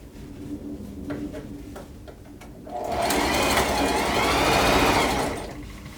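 A sewing machine runs in a fast, steady whirring burst for about three seconds while stitching an arm onto a handmade outfit, preceded by quieter clicks and handling sounds.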